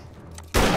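A single loud gunshot bursts abruptly in the video game 7 Days To Die after a quiet moment, its noisy blast and tail filling the end of the moment.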